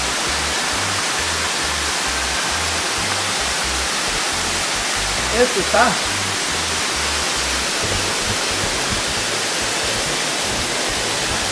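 Laguna Brava waterfall in Guatemala roars as a steady, loud broadband rush of falling water, with a brief voice speaking midway over the constant wash.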